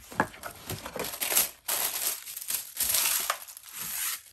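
Crinkling and rustling of an American Girl doll Halloween costume box being opened, with repeated crackling bursts of cardboard and plastic packaging handled up close, no talking.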